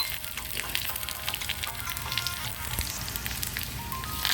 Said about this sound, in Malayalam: ആവശ്യത്തിനുള്ള വെളിച്ചെണ്ണ ഒഴിച്ചു കൊടുത്ത് ചൂടായി വരുമ്പോഴേക്കും അതിലേക്ക് കടുകും സ്ലിറ്റ് ചെയ്ത വറ്റൽമുളകും കുഞ്ഞായിട്ട് അരിഞ്ഞെടുത്ത ചെറിയ ഉള്ളിയും